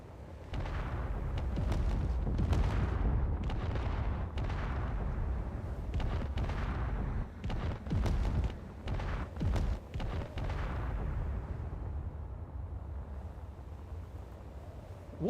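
Missiles launch in a space combat game as a dense string of sharp whooshing bursts and booms over a low rumble, the volley thinning out and fading toward the end.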